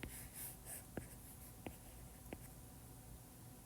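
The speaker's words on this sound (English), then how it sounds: "So let's write this down." Pen scratching on paper while organic chemistry notes are written, a few quiet strokes with three short distinct taps or scratches spaced under a second apart, close and faint with no talking.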